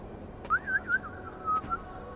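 A few short whistled phrases rise and fall over a low hum of game ambience in Deus Ex: Mankind Divided, each note thin and clear, with gaps between them.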